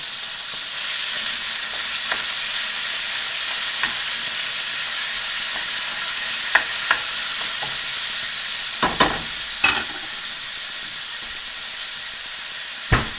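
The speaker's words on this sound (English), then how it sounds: "You want to hear that sizzle." Chicken sizzles loudly in a frying pan, a steady hiss broken by scattered pops and a few sharp clinks, with no one talking.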